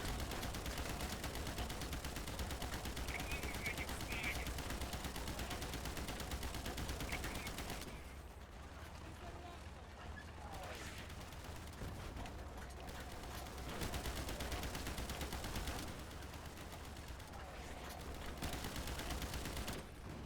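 A 7.62mm machine gun fires in Easy Red 2 during a Stalingrad battle. Long, fairly faint streams of rapid rounds run with short pauses around the middle and later, over a low rumbling background.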